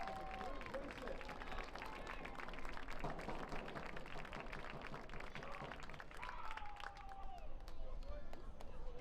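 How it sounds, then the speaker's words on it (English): Crowd applause at a boys' high school lacrosse senior night in the stadium, steady clapping and cheering from a fairly distant crowd carrying on throughout, with a public-address voice talking over it. "let's give a thunderous applause, round of applause for the Super Class of 2026"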